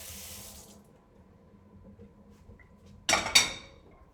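Tap water runs briefly, then fades out, followed by two sharp clinks of a cup or dish near the end.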